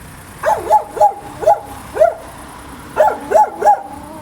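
A dog outdoors at night in Lithuania barks in two bursts of short, sharp yaps, four then three, fairly close, with a quiet pause between.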